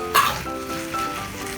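Pork sizzling and crackling in a hot electric frying pan, steady and close, with a brief louder hiss at the start and a faint ringing tone underneath.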